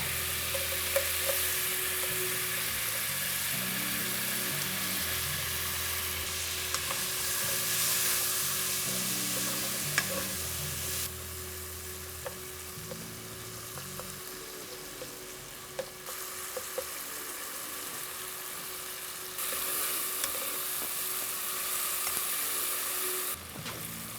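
Onions fry in about half a tablespoon of olive oil for a chicken stew, giving a continuous soft sizzle close by with occasional stir scrapes; a low tonal hum runs underneath and the level shifts a few times.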